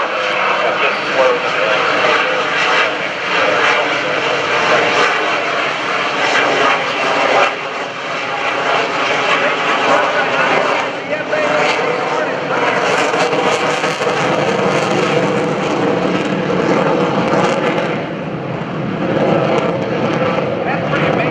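An F/A-18C Hornet fighter jet flies slowly at high angle of attack during an airshow demonstration at NAS Oceana. A loud, sustained engine roar fills the whole stretch, with talk faintly mixed in.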